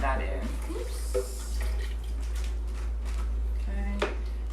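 Plain water, about one and a half cups, poured into a blender during a drag queen cooking show, a soft steady splashing trickle close by under busy kitchen background and voices.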